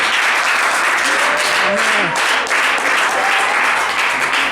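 Church congregation clapping during an evangelist's sermon, a loud, steady wash of applause with a few faint voices and tonal calls rising through it.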